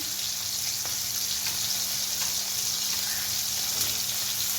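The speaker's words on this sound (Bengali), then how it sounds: "মাছটা ভাজা হয়ে গেছে এবার এর মধ্যেই আমি দিয়ে দেবো হচ্ছে ভেন্ডি" Okra added to a pan of oil where fish has just been fried sizzles and fries steadily, a continuous close crackle with faint stirring ticks and no talk.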